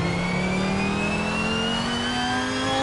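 Simulated car engine in the racing game Assetto Corsa, a steady loud mid-pitched drone with tones gliding slowly upward as revs build after a downshift, continuous and alone with no voices.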